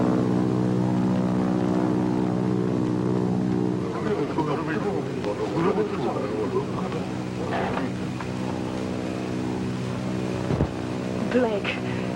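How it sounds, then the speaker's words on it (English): Drone of army planes passing overhead, a steady engine hum with harmonics holding throughout, with voices speaking over it. "Might be Army planes"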